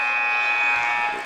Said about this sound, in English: there's a 3-point attempt there at the buzzer by number 13, Garrett Thompson.